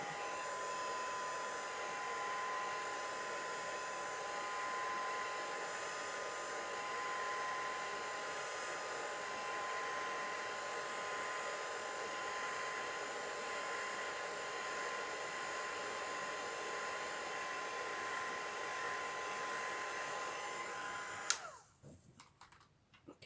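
A hair dryer blows steadily over alcohol ink artwork in a pink palette, a loud continuous whoosh that runs for about twenty seconds before cutting off abruptly, leaving faint handling noise.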